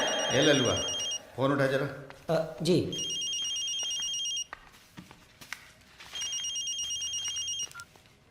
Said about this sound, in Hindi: ललुआ फोन उठा जरा।